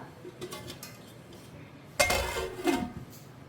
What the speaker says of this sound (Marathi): सो आतां धांपोवन दवरता